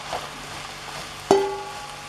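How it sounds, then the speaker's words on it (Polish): A soft, steady sizzle of vegetables frying in a pan, broken by a sudden clank of metal that rings briefly. "Dodajemy pozostałe warzywa. I też smażymy."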